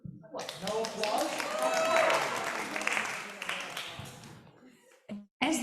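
Applause breaks out from the audience at a winter solstice celebration, rising quickly into a full round of clapping with voices mixed in, then tapering off and stopping before a brief sound at the end.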